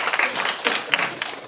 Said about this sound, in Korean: 박수 한번 줘라